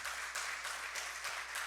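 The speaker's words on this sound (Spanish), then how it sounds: "Dale un fuerte aplauso al Señor si crees eso" A church congregation applauds together, steady massed clapping that pulses in a few waves and stays fairly faint and distant throughout.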